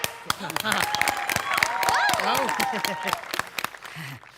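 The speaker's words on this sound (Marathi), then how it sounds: "टाळ्या." Audience applause at a Marathi comedy stage show: a steady spatter of hand claps runs through the whole stretch while a loud voice speaks and calls out over it.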